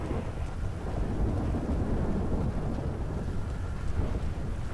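Torrential rain pours during a thunderstorm in GTA V, a thick constant wash of falling water layered with low booming thunder, loud and unbroken from start to finish, no talking.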